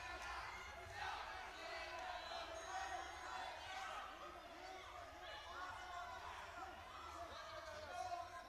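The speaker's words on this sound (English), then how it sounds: "Crowd is loving it." Crowd at a women's 69 kg MMA championship bout cheering and shouting, a continuous distant roar of many voices that stays steady throughout, with a few louder swells.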